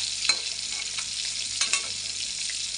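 Pieces of rohu fish frying in hot oil, a continuous close sizzle with a few soft stirring clicks, no talking.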